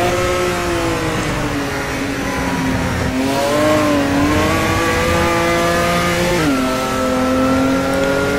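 In a racing simulator game, a 1986 Pala race car's engine revs continuously with rising and falling pitch through gear changes, one sharp drop near the end, loud and alone without talk.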